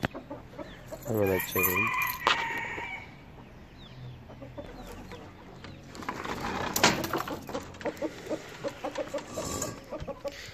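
Hens cluck and a rooster crows nearby in a coop, with a brief spoken phrase early on and scattered chirps and rustling through the rest.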